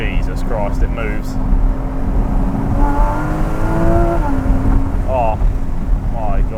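A Porsche 981 Cayman S with a flat-six engine and PDK gearbox accelerates on the road, a steady rising engine drone from inside the car, with someone talking excitedly over it.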